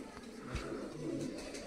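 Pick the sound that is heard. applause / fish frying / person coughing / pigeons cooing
pigeons cooing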